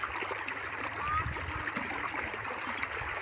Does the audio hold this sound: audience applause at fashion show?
no